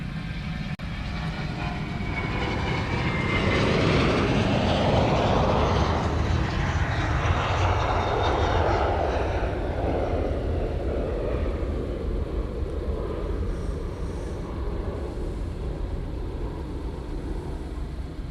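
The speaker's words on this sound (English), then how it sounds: "Alright, Qantas heading back to Melbourne is on its way out here. That should be a 330." A Qantas Airbus A330 jet departs Honolulu airport. Its engines build into a loud, broad roar that peaks close by and then fades into a steady, distant rumble as the aircraft moves away.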